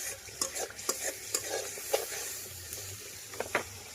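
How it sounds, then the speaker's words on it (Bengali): Thick spice paste fries in oil while being stirred, a soft low sizzle broken by repeated scraping strokes at an uneven rhythm, fairly quiet and close. "মশলাটা খুব ভালোভাবে কষিয়ে নিয়েছি, যে দেখেন তেলটা কিন্তু উপরে ভেসে উঠেছে"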